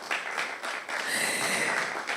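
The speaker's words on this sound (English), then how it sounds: "A round of applause." Brief burst of audience applause at a live digital dialogue event on smart farming, moderate and fairly distant, lasting about two seconds.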